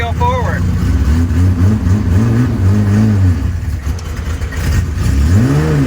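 A Datsun 280Z race car engine idles and revs unevenly as the car pulls forward for the first time, its wavering engine note loud and close, with a voice talking over it.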